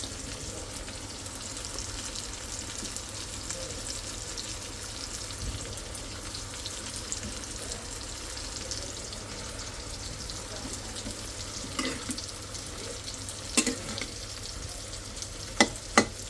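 Pangas fish fries in a pan with ginger and garlic, giving a steady low sizzle that runs throughout with a few sharp clinks and stirring knocks near the end, heard under someone talking.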